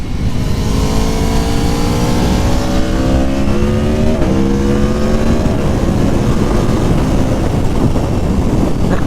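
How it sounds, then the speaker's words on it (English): A 2019 Aprilia Tuono Factory motorcycle on its stock exhaust accelerates hard through several gears, loud and close, its engine note climbing repeatedly with quick shift dips, under constant wind noise. "I can't believe the stock exhaust sounds this good."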